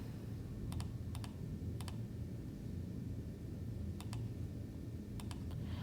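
Quick clicks of keys on a calculator as numbers are entered, in short irregular bursts with pauses between, faint and close against a soft background hiss.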